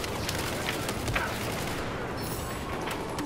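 Gunfire from the OTs-14 Groza-1 bullpup rifle in Battlefield 4, firing at roughly 750 rounds per minute; a quick string of shots amid a dense battlefield din, fairly quiet and distant.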